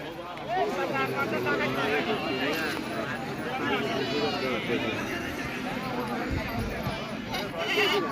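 Sheep bleat repeatedly amid a noisy livestock market crowd, their wavering cries overlapping with steady chatter and background commotion.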